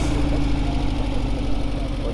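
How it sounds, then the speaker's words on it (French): A Maule aircraft's Rotax 912 engine idles steadily close by, a continuous low, throbbing drone with an even pulse and no break across the short span. "tu vois le moteur, ça a le son du 912"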